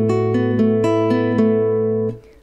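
Classical guitar plays bar 29 of the lullaby Nezhnost (Tenderness): a handful of plucked notes over ringing open strings in an even, gentle rhythm, close and bright, ending on a short decaying chord.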